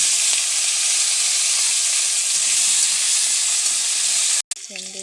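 Sliced okra fries in oil left over from frying fish, a loud continuous sizzle and hiss close by, broken near the end by a short gap and a few clattering knocks.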